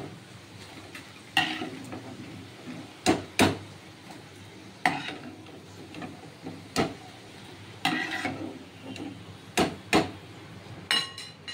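Cauliflower frying in oil for chilli cauliflower, heard as a steady low sizzle under repeated sharp clacks and knocks of a utensil against the pan at irregular intervals, close and fairly loud, with no speech.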